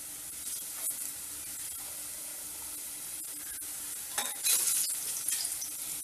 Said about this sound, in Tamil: வெங்காயம் நல்லா ரோஸ்ட் ஆயிடுச்சு